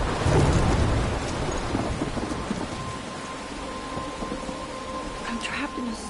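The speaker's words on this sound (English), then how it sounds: "I'm trapped in a storm?" Thunderstorm rain pours steadily in the video game Life is Strange, with a loud rumble of thunder at the start fading into constant heavy rainfall.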